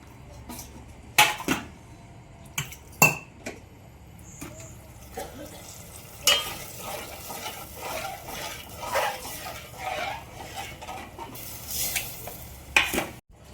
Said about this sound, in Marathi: बघा आता ते आपण फोडणीला बाकीच टाकलेलं आहे